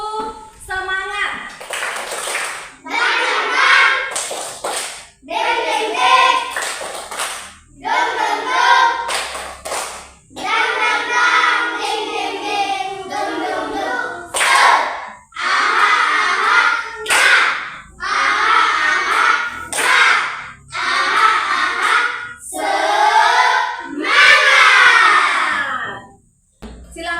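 Indonesian schoolchildren stand in class and perform a rhythmic spirit-clapping routine, loud bursts of patterned claps in repeated phrases, with chanted voices between and over the clapping.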